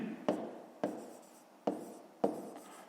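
A pen or pencil writing on paper during a fifth-grade math exercise makes four separate short, close scratchy strokes, each a sharp tap fading quickly into quiet.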